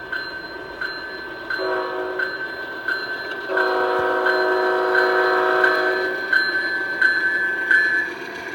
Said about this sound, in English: the engineer eases up on the throttle as the grade begins to level out and the train rolls over the Summit crossover.